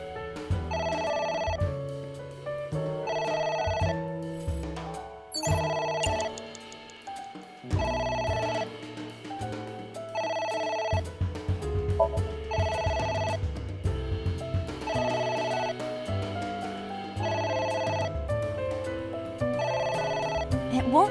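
A telephone ringing in the game AI: The Somnium Files, repeated electronic ring bursts in a regular pattern over background game music, continuing throughout.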